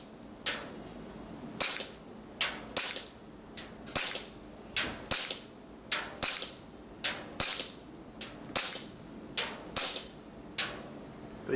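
Airsoft shots from a WE Glock 19 Gen5 gas pistol fired at a target 40 metres away: a steady series of about twenty sharp, close cracks spaced roughly half a second apart, each with a brief metallic rattle.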